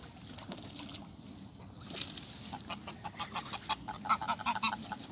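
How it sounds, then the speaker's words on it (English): A greylag goose honks repeatedly in quick, faint calls in the later seconds, outdoors on a town visit to Ilford amid steady background ambience. "That's a greylag goose."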